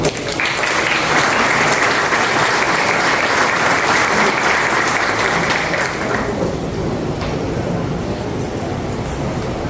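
Sustained applause from an audience at an autism spectrum disorder awareness meeting, welcoming a physician introduced on stage; dense, loud clapping fills the room steadily for nearly ten seconds, thinning slightly toward the end.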